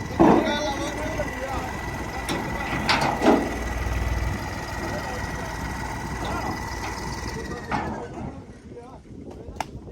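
A tractor engine running at a trolley-pulling contest, a low steady rumble with occasional mechanical clanks beneath people talking nearby throughout.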